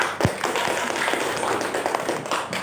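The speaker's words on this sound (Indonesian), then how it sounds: "beri tepuk tangan untuk kelompok 1" A classroom group claps together for classmates after a presentation in a physics lesson, a dense, steady patter of hands lasting a few seconds with no talk over it.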